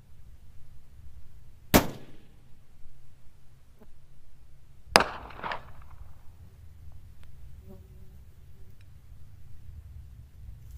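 A cold-bore rifle shot fired through a Vortex Strike Eagle 5-25x56 scope on a long-range course: two sharp, loud cracks about three seconds apart stand out against a quiet background.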